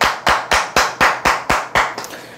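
Seven sharp hand claps in a steady, evenly spaced rhythm, loud and close, the last one softer and trailing off.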